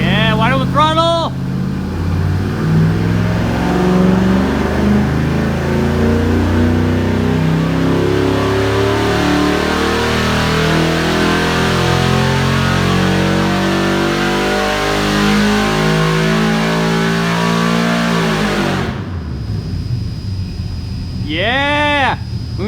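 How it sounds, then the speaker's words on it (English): Junkyard LS V8 running on moonshine at wide open throttle on a dyno, a loud sustained rising engine roar for about eighteen seconds before cutting off abruptly, with brief voices at the start and end. "Yeah, wide open throttle."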